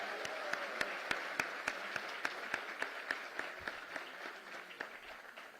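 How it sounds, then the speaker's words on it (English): A small audience claps for guests at a book launch for Shiv Khera's 'Live While You're Alive', faint and distant, with sparse, distinct claps in a loose, slowing rhythm. "round of applause for both our guests"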